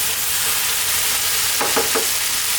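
Tomatoes and lamb fry over high heat in a pan, a dense continuous sizzle with a few short scraping stirs near the end.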